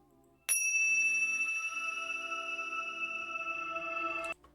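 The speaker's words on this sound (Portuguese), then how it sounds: "a nossa vibração começa com este sino" A single bell is struck to open a prayer session, a bright metallic strike that rings on with a long, steady sustaining tone for several seconds before being damped.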